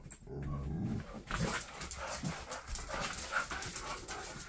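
A dog panting heavily and rhythmically close by during play, with soft breathy gasps and a few faint low growly sounds.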